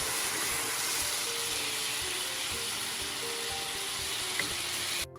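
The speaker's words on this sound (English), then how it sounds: "Now you can add your can of diced petite tomatoes and stir that up." Steady sizzling of onions sautéing in a pan as canned petite diced tomatoes are stirred in for a Mediterranean baked eggplant, a continuous close frying hiss with faint scraping, cutting off abruptly at the end.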